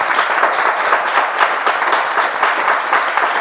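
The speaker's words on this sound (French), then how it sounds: "On peut s'applaudir bien fort." Dense, steady applause from a crowd at a Christian gathering led by a pastor, sustained at an even, fairly loud level for a few seconds with no pauses.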